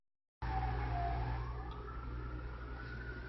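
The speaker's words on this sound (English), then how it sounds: "Oh, there are an awful lot of sirens tonight." A siren wails at night, its pitch sliding down and then rising in a slow sweep over a steady low hum of traffic, moderately loud and unaccompanied by voices.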